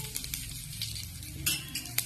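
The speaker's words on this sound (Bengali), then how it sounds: "হিংটা জিরেটা ভালো করে একটু ভাজা ভাজা করে নেই।" Asafoetida and cumin frying in a pan while making khasta kachori, a soft steady sizzle with light stirring and a few sharp metallic clinks of utensil against pan.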